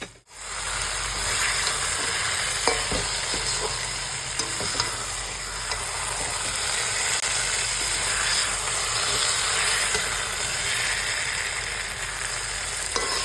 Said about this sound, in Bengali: এটা মাছটা দিয়ে আবার একটু কষাতে হবে।